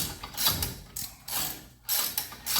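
A ratchet wrench with a 9/16 socket turns a bolt on the fan bracket of a 1971 Chevelle's Chevy small-block 350, giving close, short bursts of rapid clicking with brief pauses between strokes.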